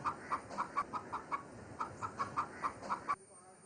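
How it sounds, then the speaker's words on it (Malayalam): A lone hen makes a steady series of short, evenly spaced clucks, about a dozen in quick rhythm, close and moderately quiet, before falling silent. "കോഴികൾ കറങ്ങി നടക്കുമ്പോഴും ഈ കോഴി ഒറ്റയ്ക്ക് തന്നെയാണ്"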